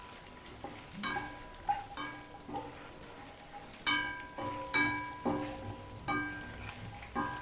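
Chilies roast in hot oil for a Mangalorean chicken curry, giving a quiet, close crackle with repeated sharp pops and spits spread unevenly through a soft background sizzle.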